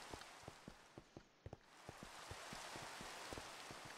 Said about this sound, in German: Mein Gott, es regnet durch.